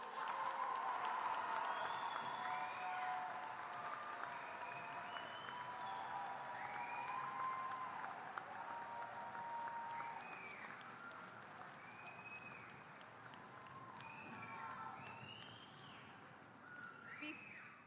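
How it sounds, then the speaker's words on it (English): Audience applause at a high school graduation ceremony: a steady, dense wash of clapping that sounds fairly distant and soft, holding evenly for the whole stretch before tapering slightly near the end. "Can we give it a round of applause?"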